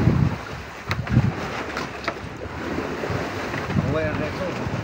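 Wind at sea buffets a tuna fishing boat, a rough blustery roar with gusts and microphone rumble over surging water, and faint voices talking in the background.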